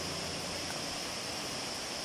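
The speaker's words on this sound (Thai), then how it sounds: "นี่คือน้ำตกป่าหวายครับ" Pa Wai waterfall in Thailand, where red-coloured water runs down the rocks, gives a steady, unbroken rushing wash. It is fairly faint and even throughout, with no one talking.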